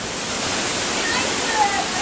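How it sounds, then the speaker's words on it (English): Roar of a waterfall in Iceland heard from close range, a dense, steady broadband rush of falling water that fills the whole clip at high level without a break. "That was awesome experience in here, up close to the waterfall."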